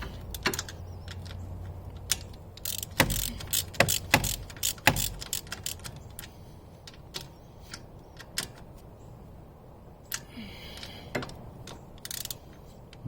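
A ratchet clicks in short, irregular bursts while the bolts are snugged up during an oil change on an LT160 lawn tractor, close and fairly quiet with pauses between runs.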